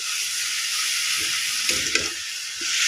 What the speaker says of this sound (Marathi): त्यामध्ये टाकायचं आहे दूध दुधामध्ये हलवा शिजवून घ्यायचा आहे